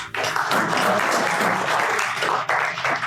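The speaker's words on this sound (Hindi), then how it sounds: "तालियां तो बजा दो इसके लिए" Applause from a seminar audience at a government ITI career guidance session, dense clapping close and loud, sustained for about three seconds with a brief dip near the end.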